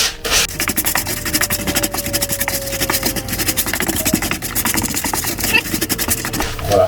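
Coarse salt is worked together with a cognac mixture by hand for smoked salmon, giving a gritty, continuous rubbing and scratching that stays close and steady.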